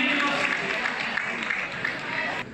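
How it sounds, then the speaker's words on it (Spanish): An audience at a charity auction in Medellín breaking into sustained applause, a dense, steady wash of many hands clapping with crowd noise mixed in, loud and close throughout. "Podemos aplaudir un momento a Claudia."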